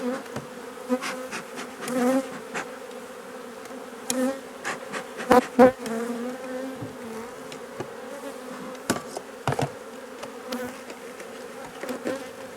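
A swarm of honeybees at a hive hums continuously close by, with individual buzzing passes and occasional sharper bumps and knocks.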